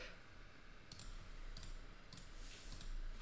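Sparse computer keyboard clicks, a few separate taps spaced about half a second apart, faint against a steady low background hum with no voices.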